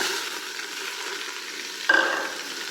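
Vegetables sizzle and fry in hot oil in a pan as the base for a goat meat curry, a steady crackling hiss that jumps louder near the end as more is added or stirred.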